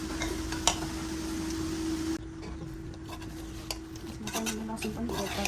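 Garlic frying in a pan for pork and buff achar, a soft continuous sizzle with a steady hum that drops away midway, then quieter scraping and light stirring clatter.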